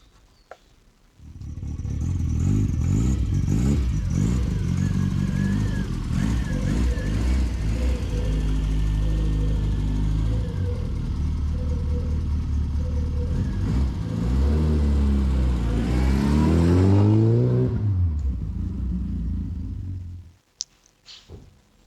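Classic Mini with a manual conversion running from about one second in, its engine note holding steady and rising through loud revs near fifteen to eighteen seconds before cutting out, close and alone.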